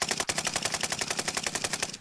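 Rapid automatic gunfire in a PS4 shooter, an even stream of loud, close shots firing without pause through the whole burst.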